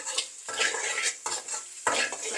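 Egg frying in a pan for simple fried rice, with three bursts of a spatula stirring and scraping against the metal over a bright, steady sizzle.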